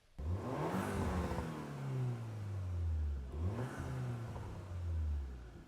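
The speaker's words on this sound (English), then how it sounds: "It has some GTI burble pops." A 2025 Porsche Macan engine revs hard twice in succession, each rise followed by a falling exhaust note with burbling pops, close and loud with no talk.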